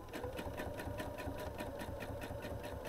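Sewing machine running steadily while edge stitching quilted hexagons with an open-toed foot, a close, continuous rapid needle chatter with no pauses.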